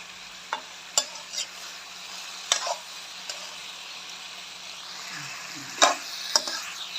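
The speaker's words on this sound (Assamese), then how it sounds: "এয়া পাচলিখিনি দি পেলাই অলপ দেৰি ভাজিম।" Vegetables and chicken frying in a pan give a faint, steady sizzle, broken by sharp clicks and scrapes from a spoon stirring several times, heard close up with no talking.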